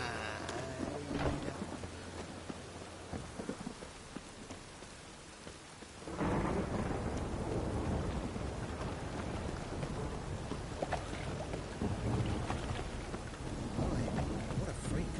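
Steady rain and rolling thunder from a storm in The Witcher, a soft wash for the first six seconds that swells abruptly into a heavy, loud downpour with deep rumbles continuing throughout.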